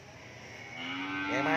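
French-breed cattle at a cattle farm give a single moo. It is fairly soft and rises in pitch toward the end, with no talking over it.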